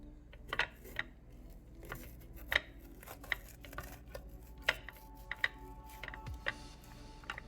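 Bell pepper being cut and seeded on a cutting board: quiet, irregular knife taps and small clicks spaced about a second apart, faint and close, with no talking.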